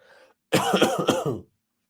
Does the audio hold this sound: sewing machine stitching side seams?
no